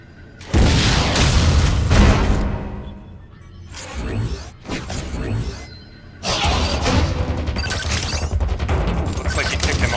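A missile blast in the video game Metroid: Other M, heard as heavy booming crashes and rumbling debris that swell, dip and return loudly.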